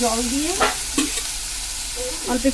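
Boiled banana flower with chili powder is sautéed in a pan for a shrimp dish: a steady frying hiss broken by a few sharp spatula scrapes, with a voice briefly at the start and end.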